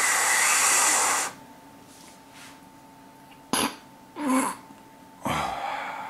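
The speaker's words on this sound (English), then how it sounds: "that's the sound of weed cough." Several harsh coughs from someone who has been smoking weed, heard as three separate bursts spaced a second or so apart, close and fairly loud, after an opening rush of broadband noise.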